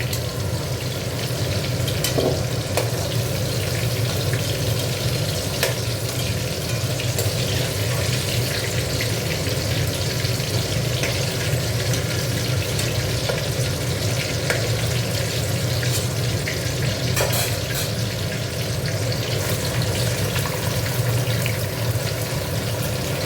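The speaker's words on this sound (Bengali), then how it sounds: "এবার এটাও একটু নেড়ে নিচ্ছি" Vegetables frying in a wok hiss and sizzle steadily up close, with occasional sharp scrapes and clinks from a stirring spoon against the pan over the continuous frying noise.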